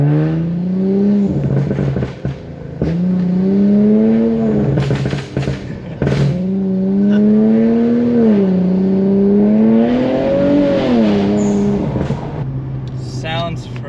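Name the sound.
modded Infiniti Q50 accelerating, blow-off valve and turbo spooling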